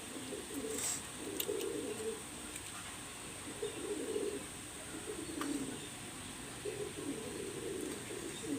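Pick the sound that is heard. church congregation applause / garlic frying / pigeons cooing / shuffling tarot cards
pigeons cooing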